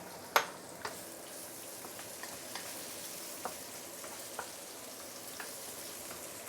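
Shallots, cured meat, Chinese sausage and shiitake mushrooms fry in a pan for rice stew, giving a soft, steady sizzle with a sharp clack near the start and a few faint clicks spaced through.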